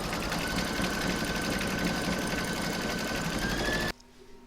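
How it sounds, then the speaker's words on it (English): An embroidery machine threaded with black, stitching the nose and whiskers on an Easter bunny design, running in a steady, close, rapid mechanical chatter that stops suddenly. "I've loaded black back into my machine, and I'm now going to stitch round number 9"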